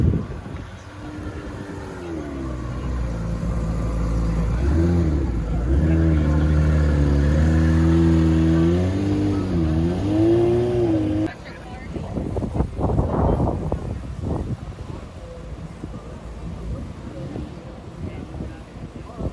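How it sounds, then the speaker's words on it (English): A Ferrari Enzo's V12 engine revs and rises in pitch as the car pulls away from a car show, strong and close at first, then fading into wind noise and people talking nearby. "It makes the right noise, like V12."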